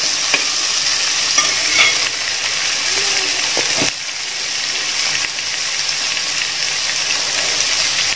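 Finely chopped large onions sautéing in a pan for a Kerala snack, giving a loud, steady sizzle and hiss up close, with a few stirring knocks and scrapes.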